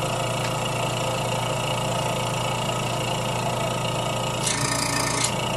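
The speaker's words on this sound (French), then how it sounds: "Donc, je vais brancher ma pompe." A vacuum pump runs with a steady, loud mechanical hum and whir, unbroken throughout, with a couple of brief higher hisses near the end.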